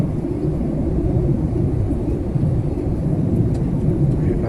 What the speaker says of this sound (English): We're just getting ready to lower altitude for the landing.